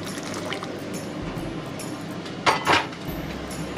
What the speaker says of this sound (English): I'm going to soak my lids in some hot water from the kettle